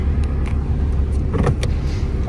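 A 2011 Audi A4 2.0 TDI with automatic gearbox pulling away, a close, steady diesel engine rumble with faint mechanical clicks over it, no talk.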